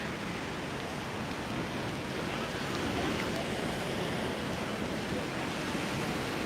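Sea waves wash on the beach at Can Picafort, Mallorca, a steady, dense roar of surf mixed with wind, continuous and fairly loud with no talking.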